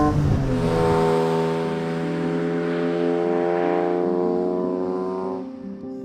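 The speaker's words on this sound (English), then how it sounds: "This is my 1993 BMW E30 Touring Design Edition with an S54 engine swap." A 1993 BMW E30 Touring Design Edition with a swapped-in S54 engine runs at a steady, droning pitch that rises slightly, loud and close, then eases off near the end.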